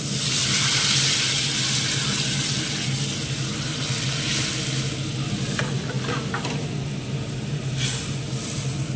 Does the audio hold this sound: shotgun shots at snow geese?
no